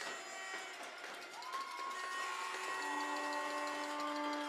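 A full arena crowd murmuring before a U16 basketball game, a steady distant roar of many voices with a long whistle-like tone rising partway through.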